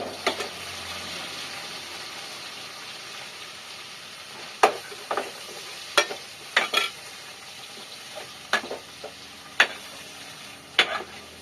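Tomato pieces dropping into a hot pan of chicken curry base, giving a steady low frying sizzle broken by several sharp stirring scrapes and clatters, close and moderately loud with no talk.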